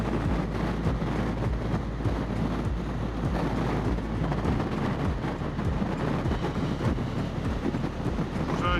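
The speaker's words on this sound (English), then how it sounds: "So yeah, this wind is just getting very tiring." Strong wind buffets a microphone on a long, cold road toward Ballarat, a steady low roar with gusty rumble filling the whole stretch and no voices.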